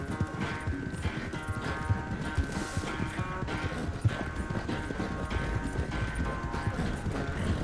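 Steady horse hooves clip-clop in Red Dead Redemption 2, a continuous trotting rhythm close by over a low in-game ambience, with a brief whinny-like tone and no talk.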